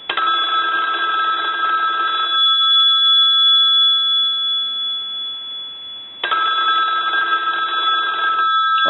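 The inside bell of a Western Electric crank telephone rattles in a loud, close metallic trill, stops for several seconds of fading hum, then starts ringing again, with no voices over it.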